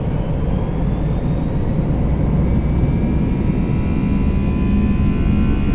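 Loud, steady roar of A320 jet engines spooling at takeoff power in the X-Plane 11 flight simulator, a dense continuous rumble with a rising whine, close and unbroken.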